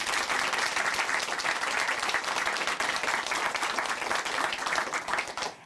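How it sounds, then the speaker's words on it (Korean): Sustained applause from a church congregation after a testimony, steady dense clapping filling the whole stretch at even loudness before tapering slightly at the end. "다시 한번 박수 보내드릴게요"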